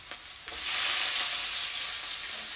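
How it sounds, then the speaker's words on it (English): Onion drops into a hot pan for eggplant curry and sets off a loud, bright sizzle that swells quickly and holds as a steady hiss. "Now I'm gonna put this onion."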